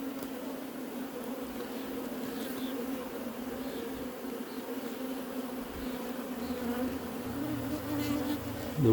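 Dense, continuous buzzing of many bees, close and steady, with no talking over it.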